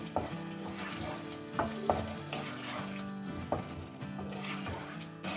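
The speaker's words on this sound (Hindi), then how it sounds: "अब इसको इस पे मिक्स करें और इसको दही के साथ भून लें" Minced meat keema sizzles as it is fried with yogurt in a pan, with steady frying crackle and several clattering stirs and spoon scrapes spread through the stretch, no voices.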